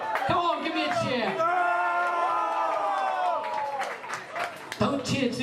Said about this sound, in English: Come on, give me a cheer.